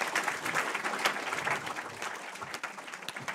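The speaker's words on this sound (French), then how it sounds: "On les applaudit bien fort en tout cas." Audience at a Corewar Championship game event clapping steadily for the players, a dense, even patter of applause at moderate distance.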